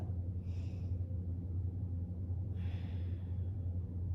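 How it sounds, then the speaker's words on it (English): A deep breath taken during a thoracic spine mobility exercise on a mat, drawn in with two soft airy breaths about two seconds apart over a steady low hum, with no talking. "let's take a breath"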